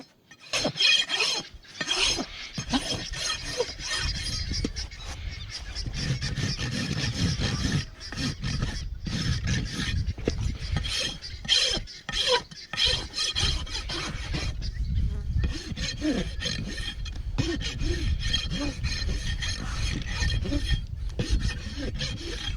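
A hoof rasp files steadily across a long-neglected, cracked horse's hoof after trimming, evening out the excess; the gritty rasping runs continuously and close, in repeated strokes with brief pauses, and no one speaks.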